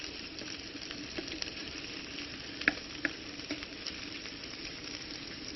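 Bresse chicken pieces browning in melted butter in a pan, giving a steady close sizzle and crackle with a few sharper pops and spits, no voices over it.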